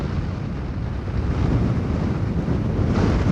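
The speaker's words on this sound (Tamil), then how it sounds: "காற்று பயங்கர மாட்டிக்கு, கொஞ்சம் விட்டால் கீழே தள்ளிடுவேனே." Strong wind blasting across an open hilltop on a day trip around Mekkarai and Adavinainar dam, a loud, steady roar buffeting the microphone that swells a little stronger after the first second and holds, with no talking.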